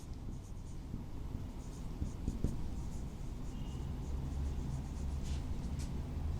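Faint scratching of writing on a board or paper during a chemistry lesson, soft intermittent strokes over a low background hum, quiet and close, with no speech.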